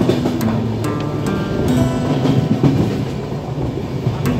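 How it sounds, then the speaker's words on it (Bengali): A train in motion on the Howrah to Raipur route sounds a loud, steady rumble with a rhythmic clickety-clack of wheels over rail joints, close and continuous throughout. "ট্রেন গতি নিয়েছে"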